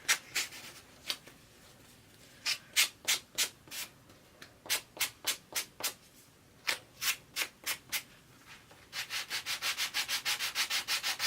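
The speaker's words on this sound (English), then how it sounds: "So instead of cutting, we're going to sand." Wood being sanded by hand to trim a small box piece, a close rhythmic series of rasping strokes in bursts with short pauses, ending in a faster, even run of rubs.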